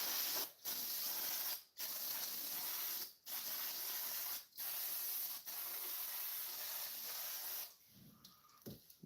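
An aerosol can hisses in long steady bursts during a Focus ST clutch install, several sprays separated by brief pauses, close and loud, ending with a few faint clicks.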